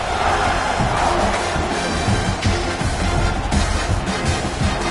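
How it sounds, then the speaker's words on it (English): A football stadium crowd buzzing after a score, a broad steady roar of many voices filling the air at a constant level, with a few swells and no clear single voice. "this crowd is buzzing after that last score"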